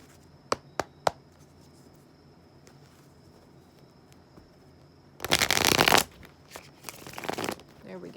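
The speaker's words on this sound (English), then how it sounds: "my cards just do not want to shuffle at the moment" Tarot cards that stick together being shuffled, heard as a few sharp taps near the start, then two louder bursts of riffling and rustling close to the mic. There is no speech.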